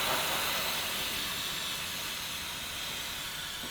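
A can of freeze spray blasts onto car sound-deadening material on a boot floor, a loud, close, steady hiss that runs unbroken for several seconds and fades slightly, with no voices.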